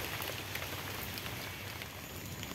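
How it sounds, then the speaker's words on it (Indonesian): Rain falls outdoors at a fishing spot in a steady, even patter on surfaces around it, a dense hiss at moderate volume with no breaks. No one speaks. "Sepertinya hujan sudah semakin reda CS"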